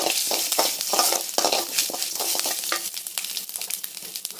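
Chana dal, urad dal, asafoetida, curry leaves and dried chillies sizzle and crackle in hot oil for a tempering, with steady frying hiss and occasional stirring scrapes, close and fairly loud.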